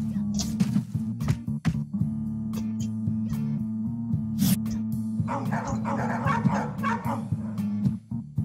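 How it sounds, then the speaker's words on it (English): A dog barks and yips in short bursts across the scene, fairly close, over a steady musical game soundtrack with a loud tonal drone. "Seriously, this dog sometimes."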